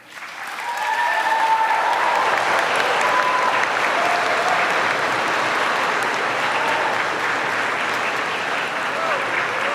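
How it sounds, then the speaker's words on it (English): Sustained applause from a large crowd swells in quickly and keeps going steadily for the whole stretch, with a few voices audible beneath. "reciprocate by applauding your family and friends, faculty and staff"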